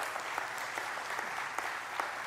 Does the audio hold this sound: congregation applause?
yes